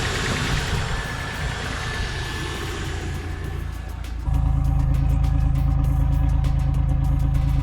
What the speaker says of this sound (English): let's see if she'll start